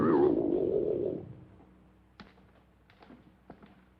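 A taped flying-saucer message, played back at an accelerated speed, comes out as a warbling burst of gibberish for about a second. It then fades into faint hiss broken by a few sharp clicks.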